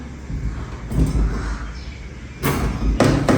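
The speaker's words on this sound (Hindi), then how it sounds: "लॉक कर दिया, दरवाज़ा लॉक हो गया" A house door is shut and locked: a few dull thumps and knocks, then two sharper, louder bangs near the end, close by and brief, with no talk in between.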